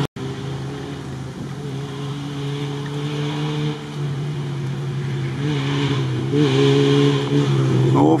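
Engine of an off-road race car on a trophy-raid track, a steady droning rumble that rises in pitch, dips briefly at a gear change and then climbs again, heard from a distance without speech.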